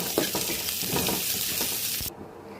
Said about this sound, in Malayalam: നമ്മളപ്പോൾ കപ്പ ഇട്ടിട്ട് മിക്സ് ചെയ്ത് കൊടുത്തിട്ടുണ്ട് കേട്ടോ